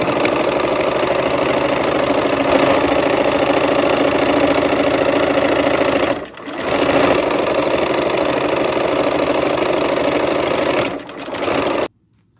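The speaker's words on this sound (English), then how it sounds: "let's go ahead and sew, and I'm putting my needle down." A sewing machine stitching quilt block seams runs in a fast, steady mechanical whir, close by, with two brief pauses before it stops at the end.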